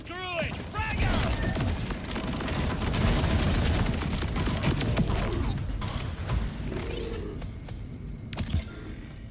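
Borderlands combat brings repeated grenade blasts and bursts of gunfire, with shattering and mechanical clatter forming a dense, loud stretch. A voice speaks over the action.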